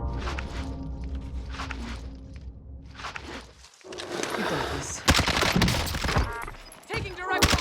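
Video-game gunfire in Call of Duty Warzone (Cold War era), with rapid bursts and scattered shots crackling over footsteps and movement, while players talk throughout.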